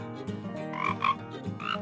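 A cartoon frog croaks in a few short, close, ribbed bursts, clear and alone with no talking over it.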